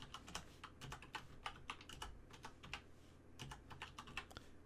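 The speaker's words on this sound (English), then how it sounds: "From here, you're going to type in SSH and then the username, the at symbol, and then you're going to type in the IP address for your machine." An SSH command is typed on a computer keyboard with quick, light, irregular keystrokes close by in a quiet room.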